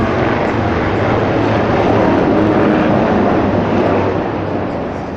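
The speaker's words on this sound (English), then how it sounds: "Military helicopter flying pretty low downtown LA." Low military helicopter over downtown Los Angeles, a loud continuous rotor and engine roar that stays steady overhead and fades slightly at the end.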